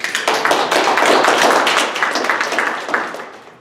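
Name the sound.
audience applause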